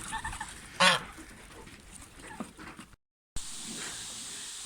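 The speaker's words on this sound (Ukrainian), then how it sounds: "До свинки заскочив півень" A single loud rooster call bursts out briefly amid quiet farmyard ambience, followed by a short gap of silence and low background noise.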